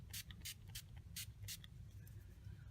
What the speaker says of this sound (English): Gonna use my trusty NYX matte finishing spray.